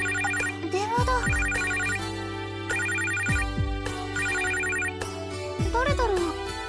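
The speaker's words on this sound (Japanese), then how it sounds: "電話だ。" A telephone rings in repeated bursts of electronic trilling, loud and close, with low musical tones underneath and a voice briefly speaking over it.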